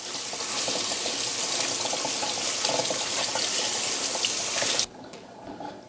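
Cold water runs steadily from a tap over freshly made butter being rinsed to remove leftover buttermilk, a continuous close splashing stream lasting about five seconds before it abruptly stops.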